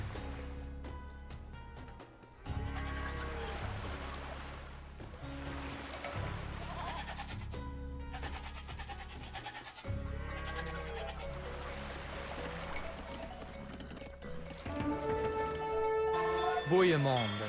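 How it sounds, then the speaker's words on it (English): Goats bleat in the strategy game Age of Empires II, with wavering calls rising over a dense layer of game music and sound effects, and a voice talking in places. "Oh, and some goats."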